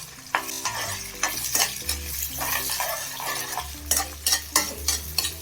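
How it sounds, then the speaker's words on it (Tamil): Egg being stirred in a hot pan while making chicken fried rice, with a spatula scraping and clinking in an uneven rhythm over a steady sizzle, close up and with no talking. "இப்போ இதை நல்லா கிளறி விட்டுருங்க."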